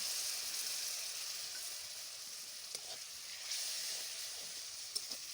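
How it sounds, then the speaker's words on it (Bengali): A turmeric and salt spice paste sizzles in a hot kadai, a faint, even hiss with a few soft clicks of stirring, alone without talk. "এবার এই গোলা মশলাটা কড়াইয়ের মধ্যে দিয়ে দিলাম।"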